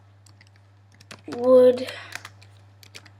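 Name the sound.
typing on a computer keyboard in Nitro Type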